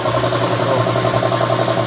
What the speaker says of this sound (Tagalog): Ayun guys, paanda rin na natin yung makina.